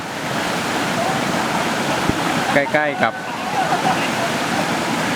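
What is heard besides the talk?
flowing stream near a village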